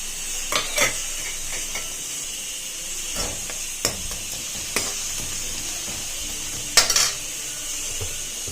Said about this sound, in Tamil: இந்த வெங்காயத்தை ஆட் பண்ணிடுங்க. நல்லா வதக்கங்க.